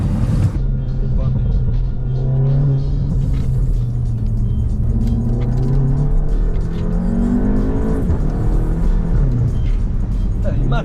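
A Seat Cupra Ateca engine revs and rumbles while driving, pitch rising and falling through gear changes, heard from inside the car with people talking over it.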